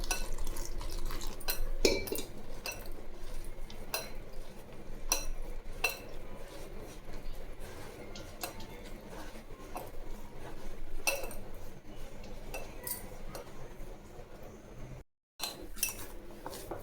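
Chapati flour is mixed with salt and water into dough in a kitchen bowl, with steady scraping, tapping and clinking of utensils against the dish and faint wet sounds, with no talking over it.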